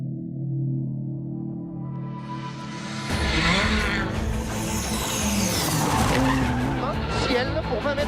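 Rally car on a gravel stage of the Rallye Lyon Charbonnières skids through a handbrake turn, tyres scrabbling, then the engine bursts into hard, loud acceleration with rising revs and flying debris, close to the microphone.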